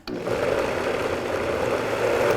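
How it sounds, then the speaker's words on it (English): A kitchen blender whirs steadily while blending green goddess dressing with herbs, a continuous motor drone that starts almost at once and holds an even, fairly loud level throughout. "This blender."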